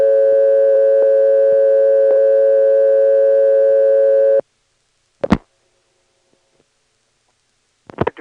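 Steady buzzing tone on a 1977 step-by-step telephone exchange in Ramseur, North Carolina, loud and continuous for about four seconds, then cut off, followed by silence and a few sharp switching clicks.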